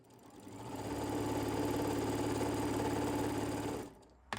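A sewing machine runs at a steady mid-speed hum while stitching quilt block pieces for a sawtooth star block, a continuous close whirring drone for nearly four seconds before it stops abruptly.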